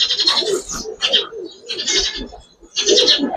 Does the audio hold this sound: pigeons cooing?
yes